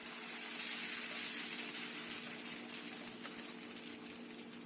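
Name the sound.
dosa batter poured onto a heated pan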